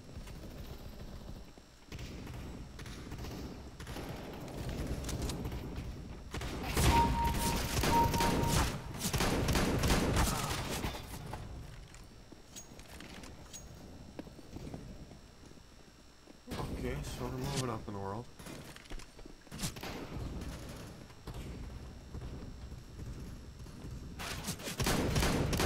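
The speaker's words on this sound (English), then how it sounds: "How the fuck am I this inaccurate with a shotgun?" Repeated shotgun blasts in CS:GO, a cluster of loud booming shots mid-stretch and more later, mixed with game noise while people talk over much of it.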